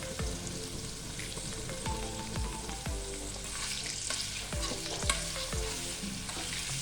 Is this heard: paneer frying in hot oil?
yes